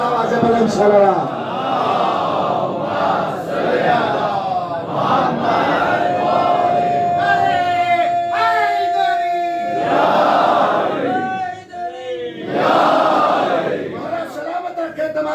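A majlis congregation at a Muharram gathering in an ashoorkhana loudly recites salawat in unison, a dense chorus of many voices rising and falling in waves for about fifteen seconds, with one sustained chanted tone standing out midway.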